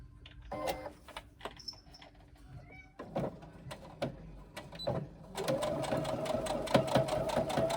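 A sewing machine runs in short bursts of rapid stitching, then a longer steady run, sewing a wristlet, with a cat meowing faintly in between.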